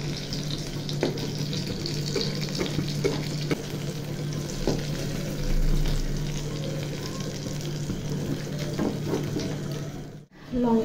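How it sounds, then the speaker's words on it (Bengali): Green chillies frying in a pan at home, a steady close sizzle with occasional stirring clinks and scrapes running throughout, briefly cutting out near the end. "এই যে লঙ্কা ভাজা করে নিচ্ছি এখন"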